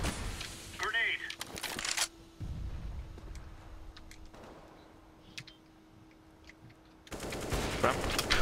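Negev machine gun in a Counter-Strike match on de_mirage: rapid sustained bursts of automatic fire at the start and again at the end, with quieter game ambience between and players talking over it.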